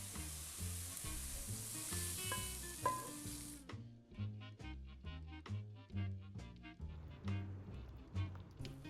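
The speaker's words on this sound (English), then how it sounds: "I'm frying them for a few more minutes to brown them nicely" Chicken and mushrooms fry and sizzle in a pan while browning for a Luxembourg bouchée à la reine, with a constant crackling sizzle and a run of rhythmic stirring and scraping strokes, close and moderately quiet.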